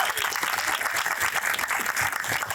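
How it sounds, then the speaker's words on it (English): Audience applause for the mayor at a park groundbreaking ceremony: steady, dense clapping from a crowd, continuous and fairly loud throughout, with no talk over it. "Let's give him a big round of applause."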